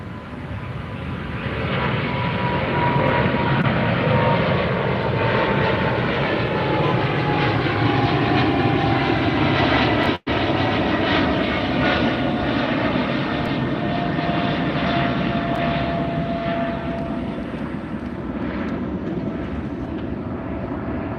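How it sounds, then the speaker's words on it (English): An Air France Boeing 777-300ER jet airliner takes off from LAX toward Paris, its engines a loud, sustained roar heard from the beach and holding steady throughout. "Air France, Boeing 777. Headed to Paris, Charles de Gaulle Airport."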